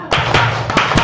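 Four sharp hand claps in a steady rhythm from a group doing a counting clap game at a teacher training session at a special-needs school in Jakarta, close and loud with slight room echo.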